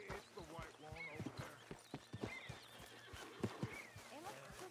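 A horse whinnies and neighs repeatedly in Red Dead Redemption 2, with hoof clip-clops in the Valentine setting, close and clear under ongoing spoken dialogue.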